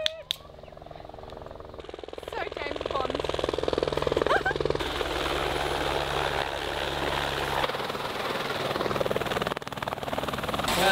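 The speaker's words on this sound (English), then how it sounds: "Guys, I hear a helicopter. He's coming in." A helicopter approaching in Fiji, its rotor thrum swelling from moderate to loud and staying close, a steady chopping drone with broadband engine noise, with people talking over it.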